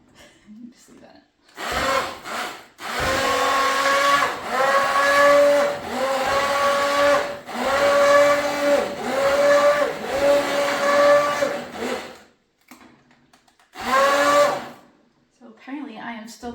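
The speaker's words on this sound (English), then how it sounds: "So apparently I am still learning how to drive this immersion blender" An immersion blender works through tomatoes in a kitchen, whirring in loud bursts of a second or two with short pauses between, then a final separate burst after a longer gap; the motor pitch dips as it bogs into the food.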